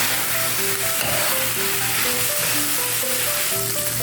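Onions being mixed into minced meat with garlic and ginger paste in a hot pan, a steady loud sizzle with faint stirring and a constant background tone underneath.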